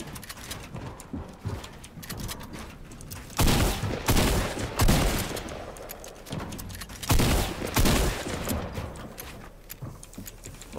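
Bursts of rapid gunfire in Fortnite Battle Royale arena mode come in loud volleys separated by quieter gaps, with no talking over them.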